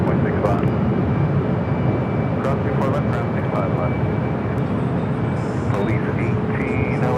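An airliner takes off at Los Angeles LAX, a loud, steady engine roar that fills the whole stretch with faint radio chatter underneath.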